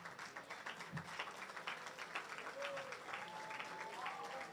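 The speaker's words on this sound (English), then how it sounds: "let's stand up and give a round of applause for our city council member" Steady applause from an audience for a city council member at a mental health awareness event, continuous clapping throughout with a faint voice and some tonal sounds underneath.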